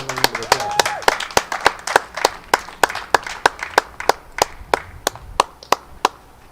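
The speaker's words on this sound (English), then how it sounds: "Let's go ahead and give them a round of applause." A crowd applauding at a junior livestock beef show, sharp rhythmic clapping that starts dense and loud, then thins into steady spaced claps that gradually fade.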